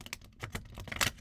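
A deck of playing cards is shuffled by hand in a short, close flurry of crisp flicking clicks that ends in a louder final burst.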